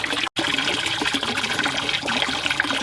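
Pond water pours steadily into a 110-gallon Tuff Stuff tub under a workbench, a continuous rushing splash with a brief break near the start.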